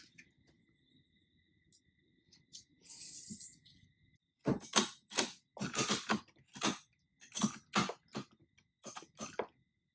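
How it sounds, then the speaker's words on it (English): Ratchet clamp clicking in short bursts as it draws an old dresser's wooden parts together, a run of sharp irregular ratcheting clicks close by after a quiet start. "You get the idea that it's ratcheting, but because it's a ratchet clamp."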